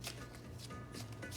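Tarot cards being shuffled close by, a dense continuous papery rustle and flutter with a few slightly stronger swishes through its short length.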